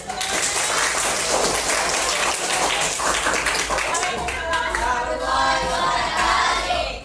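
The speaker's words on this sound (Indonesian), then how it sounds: "berikan tepuk tangan" Students clap in a classroom, a dense burst of applause filling the first half before it thins out and voices take over.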